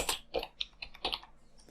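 Quiet, close keystrokes on a computer keyboard, about eight irregular taps in under two seconds, fading out near the end, with no talking while typing a resume in MS Word.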